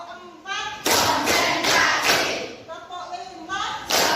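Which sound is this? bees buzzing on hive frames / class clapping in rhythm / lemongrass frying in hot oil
class clapping in rhythm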